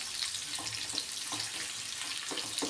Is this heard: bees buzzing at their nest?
no